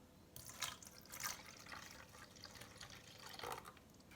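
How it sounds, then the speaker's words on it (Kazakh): Milk poured into pancake batter in a home kitchen, producing a soft, close liquid trickle and splashing with a few brighter gurgles, quiet and continuous without speech. "Мен сүтін енді қосайық."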